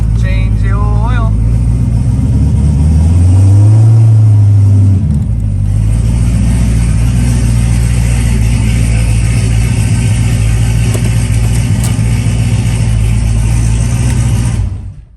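A Ford Mustang with an SBE 5.3 engine runs cold, swelling through one rev early on before settling into a steady, close, loud idle, with a voice speaking briefly at the start.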